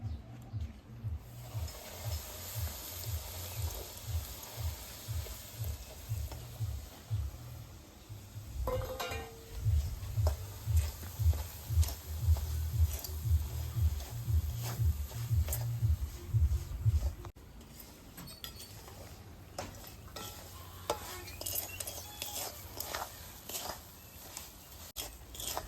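Semolina roasts in hot ghee while a spoon stirs it in rhythmic scraping strokes against the pan, close and fairly quiet, with faint clinks and a soft hiss.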